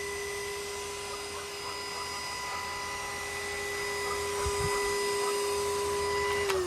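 A Moolan lightweight cordless 6-in-1 stick vacuum runs with a steady high whine and constant airy hum, close and loud, its pitch dipping briefly as it shuts off at the end.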